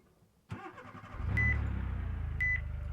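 A 2022 Nissan Rogue Sport in BeamNG.Drive starts up: a sharp click, then the engine cranks and settles into a smooth idle, with two short chimes sounding over the running engine.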